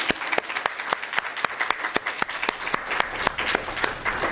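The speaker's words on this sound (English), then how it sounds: "please give our amazing panelists a round of applause" Audience at a Muslim bar association panel on anti-Muslim bullying gives the panelists a round of applause, brisk steady clapping with a few sharp individual claps standing out, fairly close and without speech.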